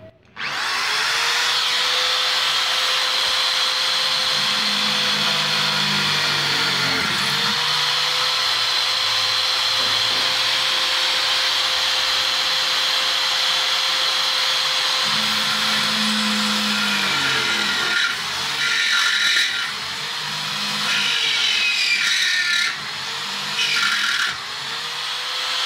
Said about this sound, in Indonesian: Kita akan melakukan pengeboran pada besi hollow ya.